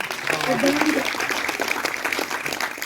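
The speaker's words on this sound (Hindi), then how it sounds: "रांची के लिए जोरदार तालियां प्लीज" An audience applauds at a live gathering. A steady wash of clapping runs throughout, with a voice heard over it early on.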